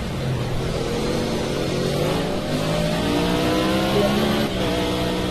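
A racing car's engine in a video game at Bathurst, loud and close, revving steadily with rising and falling pitch as the car accelerates and shifts gears.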